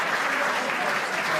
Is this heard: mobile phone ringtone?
no